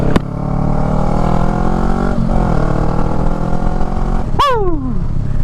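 A Honda Rebel motorcycle running on the road, its engine droning loud and close with a steady note and one sharp rev partway through; no talking.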